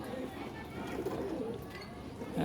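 Pigeons in a newly built loft give soft, low cooing that murmurs on through the whole stretch, steady and near but fairly quiet, with a slightly louder rustle at the end.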